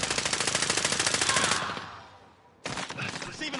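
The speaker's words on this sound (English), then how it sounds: "Receiving hostile fire." Rapid automatic gunfire from enemies rattles loud and close in Call of Duty Warzone, a sustained burst that fades out before a second volley cuts in sharply.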